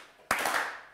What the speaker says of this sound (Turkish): Yani gerçekten üzgün alkış, üzgün alkış oldu.